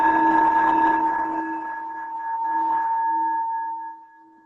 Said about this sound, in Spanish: esto es un cuenco tibetano martillado